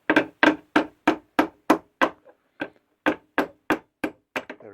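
Sharp metal taps knock a captive bolt out of the steel chassis of a 1980 Marshall JMP 2203 100W Master Volume lead head, about fourteen crisp close strikes in a steady rhythm with a short pause midway.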